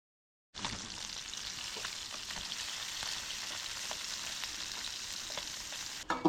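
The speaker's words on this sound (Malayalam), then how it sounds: "മീൻ വറുത്തോണ്ടിരിക്കുന്നു." Fish frying in a pan of coconut oil, a steady hissing sizzle that starts abruptly and holds close and even throughout, with no voices.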